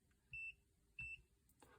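Two steady electronic beeps from a multimeter on continuity test across the contacts of a changeover automotive relay, each lasting about a fifth of a second and spaced roughly half a second apart, clear and close, followed by a brief rustle.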